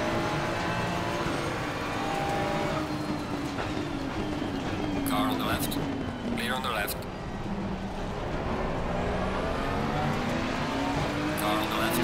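An Audi race car in Assetto Corsa Competizione sweeps past on a cold track, its engine note rising and falling over a steady bed of race car roar while someone talks over it.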